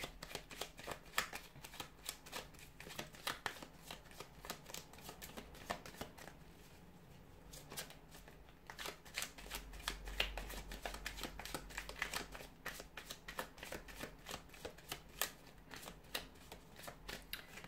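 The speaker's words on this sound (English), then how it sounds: "give the cards a shuffle and see what they're predicting for you this week" Tarot cards are shuffled repeatedly, crisp riffling flutters and light slaps coming in quick bursts with a short quieter pause midway, close and fairly soft.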